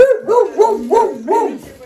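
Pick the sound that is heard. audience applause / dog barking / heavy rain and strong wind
dog barking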